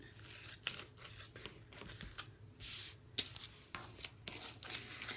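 Scissors snip through thin vinyl sheet in a quiet room, giving a run of close, crisp cutting strokes and papery rustles at an uneven pace, with no talking.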